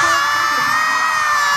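A dense crowd of fans at a K-pop fan meeting screams and cheers continuously, a loud, high-pitched, sustained roar with no pauses.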